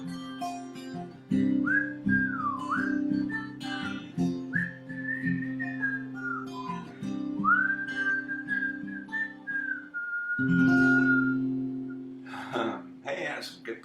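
Someone whistles a wandering, sliding melody of several sustained phrases over steady low background hum and music, close and fairly loud, with a pause near the end before more sound resumes.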